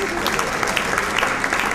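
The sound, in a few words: audience applause for the press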